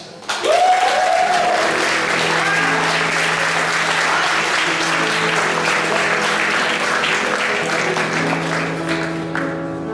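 Sustained audience applause at a school token-ring evening in a Riga German gymnasium, starting abruptly and continuing as dense, even clapping with a brief voice and faint music tones underneath.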